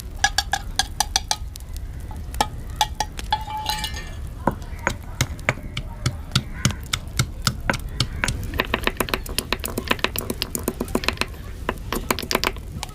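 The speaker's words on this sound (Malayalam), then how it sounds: "ഈ ഇഞ്ചിയും വെളുത്തുള്ളിയും ചതച്ചെടുക്കാം" Ginger and garlic crushed for a chempalli fish curry, with sharp repeated knocks and scraping clicks in an irregular rhythm, close and fairly loud, joined by light kitchen clatter.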